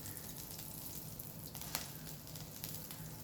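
Mustard seeds sizzle in hot oil in a pan for a taro mash, making a quiet, even crackle with a few small pops.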